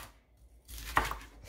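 Knife cutting bell peppers and onions into chunky pieces, a few quiet scrapes and one sharp cut landing on the board after a short silence, close and faint.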